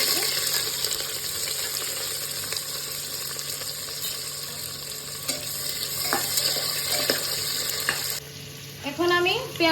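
Steady, close sizzling of whole garam masala spices, bay leaves and sliced onions frying in hot oil in a pan, with occasional stirring scrapes and a burst of louder crackle near the end.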